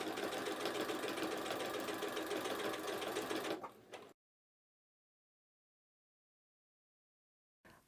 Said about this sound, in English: I'm going to continue sewing right down the centre of my quilt along that line